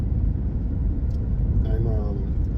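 A car driving along the road, a steady low engine and road rumble filling the cabin throughout, with a voice speaking briefly over it.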